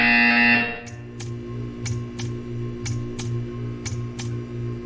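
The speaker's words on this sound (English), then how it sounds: "You will hear a buzzer." A loud electronic buzzer in a video game sounds at the start and cuts off, followed by a steady low hum with a series of faint, evenly spaced ticks.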